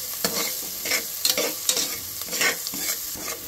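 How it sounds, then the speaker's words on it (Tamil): Onions sautéing in a pan while cooking a chicken curry, with a steady sizzle of frying and repeated scraping strokes of a spoon stirring them, close and clear with no voices. "நல்லா வதக்கிக்கலாம் வெங்காயத்தை ப்ரௌனாக"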